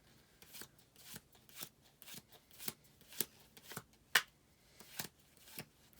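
A deck of cards being flipped through one at a time, a close series of crisp, evenly spaced snaps and flicks, roughly two per second, with no talking.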